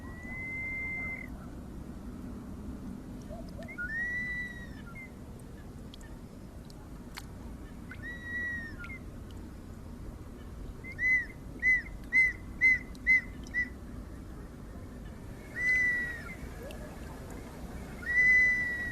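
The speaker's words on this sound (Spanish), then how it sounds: "Así es como suena una botella silbadora con cámara de resonancia." Breathy whistle tones from a ceramic whistling bottle with a resonance chamber, sounding in short separate bursts, then a quick run of five repeated whistles, followed by a few more, over quiet room hiss.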